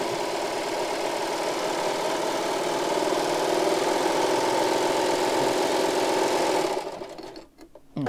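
A serger stitches a rolled edge along the side of the fabric, running in a steady, even mechanical whir for several seconds close by before slowing and stopping.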